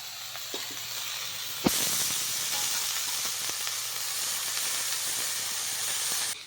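Chopped banana flower hits a hot pan with a sharp burst, then a loud, steady frying sizzle and hiss carries on for several seconds alongside faint stirring clicks, during cooking of a prawn and banana-flower ghonto.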